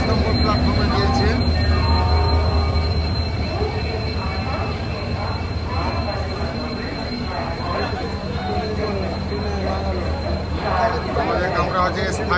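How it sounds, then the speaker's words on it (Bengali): Howrah Puri Superfast Express standing at platform 23 of a busy railway station, with a steady rail rumble and station bustle throughout and voices of people talking over it. "এটা হচ্ছে হাওড়া পুরী সুপারফাস্ট এক্সপ্রেস।"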